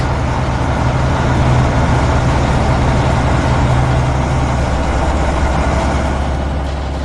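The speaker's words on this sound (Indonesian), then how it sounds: "Ada ekskavator, truk sampah, dan penggiling jalan yang mulai bergerak." Heavy construction vehicles, including an excavator, a garbage truck and a road roller, move together with a loud, steady, deep engine rumble and dense mechanical noise that holds throughout.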